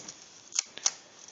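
Scissors cutting paper to trim a part for a paper AK47 model, two or three short crisp snips spaced apart, close and quiet with no talk.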